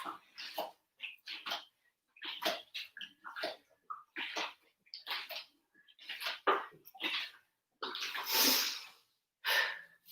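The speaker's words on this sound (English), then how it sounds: "I'm taking a big deep breath." During a fitness workout, quick, close, forceful breaths come in repeated bursts of sharp huffs and gasps, with one longer, heavier breath near the end, and no speech.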